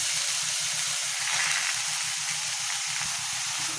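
Carrots sizzle and fry steadily in a pan of hot oil for a carrot halwa, a continuous close crackling hiss with a low bubbling undertone and no voices.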